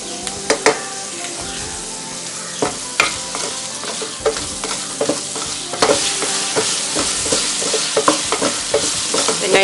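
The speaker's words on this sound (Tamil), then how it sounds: "வெங்காயம் வதங்கிறதுக்கு கொஞ்சம் உப்பு சேர்த்துங்க." Salted onions sauté in a pan for vegetable biryani, a constant close sizzle with intermittent scraping and knocking strokes of a spoon stirring, growing denser toward the end.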